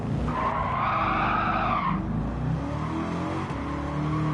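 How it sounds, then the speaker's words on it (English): Tires squeal loudly as a car skids sideways in Gran Turismo 7, a rising screech lasting about two seconds over a steady engine drone, which carries on alone afterwards. "When I heard the tires screeching"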